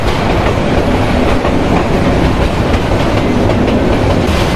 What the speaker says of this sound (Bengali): আমাদের ট্রেনের স্পিডটাকে ডাউন করা হচ্ছে, সম্ভবত সামনে হচ্ছে মেলান্দহ রেলওয়ে স্টেশন।